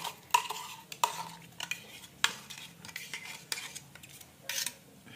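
Spice paste for a Bengali white potato curry being stirred in a pan, with sharp scraping clinks of a metal spoon against the pan at an irregular pace, close and fairly clear, with only a faint sizzle beneath.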